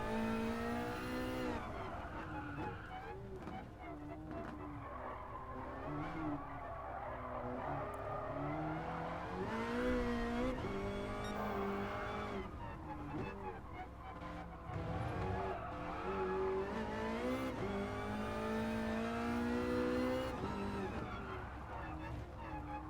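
Race car engines in Gran Turismo Sport's La Festa Cavallino event rev steadily and shift through gears, with occasional tire squeal, a continuous loud engine drone running throughout the stretch.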